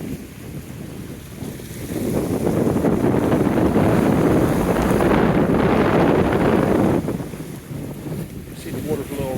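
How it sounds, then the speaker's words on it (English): Strong wind of about 20 mph, ahead of an incoming storm, sweeps the Chesapeake Bay shore beside rough water. It buffets the microphone in a steady, loud roar that swells through the middle and then eases, with no voices. "Hopefully you can hear this video for the breeze. It's probably blowing about 20 miles an hour today."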